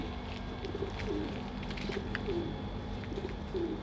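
Several pigeons cooing softly in repeated low burbling calls, close by, over a constant background hum.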